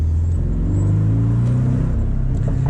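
A Porsche 718 Boxster GTS engine drones steadily through S-turns, its exhaust note rising and falling with throttle in a continuous loud rumble heard from inside the car.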